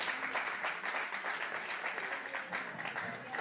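An audience applauds at a book presentation, continuous dense clapping at a moderate level throughout, with faint voices mixed in.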